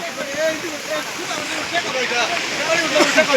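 Heavy rain pours down steadily in a village, falling onto a tarpaulin shelter where people cook, making a loud, dense, continuous hiss with voices talking underneath.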